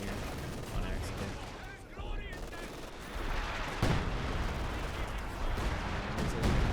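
Artillery barrage in the World War II strategy game Company of Heroes 2, with continuous heavy booms and shell blasts mixed with gunfire, loud and dense throughout, a sharp impact near the middle.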